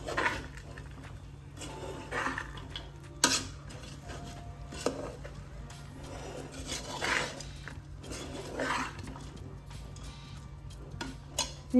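Paneer and fried cashews being stirred into pulao in a pressure cooker, with quiet, irregular scrapes and clinks of a spoon against the metal pot over a low background hum.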